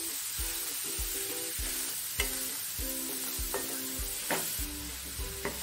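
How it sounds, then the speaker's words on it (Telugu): Grated carrot is stirred into a sizzling curry-leaf tempering in a pan over a low flame, with steady frying crackle and repeated scraping strokes of a spoon against the pan. "కరివేపాకు చిటపటలాడిన తర్వాత మనం తురిమి పెట్టుకున్న క్యారెట్ నంతటిని పోపులో కలపండి"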